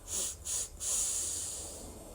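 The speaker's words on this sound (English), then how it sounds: "inhale, 3 sniffs" Three quick, sharp sniffing inhales close to the mic, the last one drawn out longer, with no talking.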